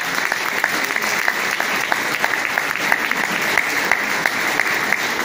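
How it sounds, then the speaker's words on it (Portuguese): Steady, close audience applause fills a small fado and poetry evening in Portugal, a dense even wash of clapping with sharp individual claps standing out, holding throughout without pause. "Uma salva de palmas para a Sandra Fradinha"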